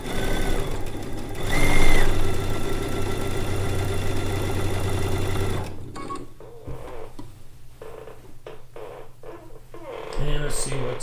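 A sewing machine stitches a seam on a Lacey Log Cabin quilt top, a loud mechanical whir for about six seconds, then quieter handling and clicks, followed by another short burst near the end.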